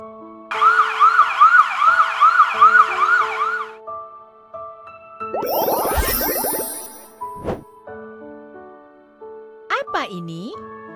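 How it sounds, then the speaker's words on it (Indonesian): An ambulance siren wails in rapid cycles for about three seconds, followed by bright electronic chimes and a whooshing jingle. "Ambulans."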